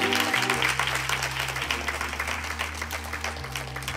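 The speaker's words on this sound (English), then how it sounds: "Clap your hands for our young people." A church audience applauds its young people at a Youth and Young Adult Day service, a dense, steady wash of clapping with sustained organ or keyboard chords underneath throughout.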